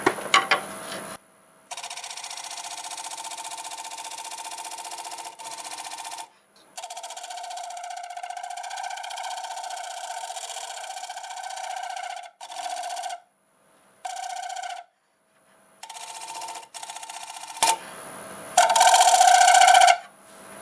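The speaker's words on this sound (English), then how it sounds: "I'm going to bevel the outside and inside" A wood lathe turns a bowl while a tool bevels its outside and inside edges. The machine hums steadily in repeated runs broken by short silent pauses, with a louder, brighter burst of cutting near the end.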